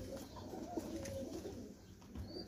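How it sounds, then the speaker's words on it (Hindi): Soft, low cooing from female pigeons murmurs continuously at a distance over a quiet, hazy background. "ये दोनों बहनें हैं और रिकॉर्डेड हैं माशाल्लाह से, रिकॉर्डेड कबूतरी हैं माशाल्लाह से"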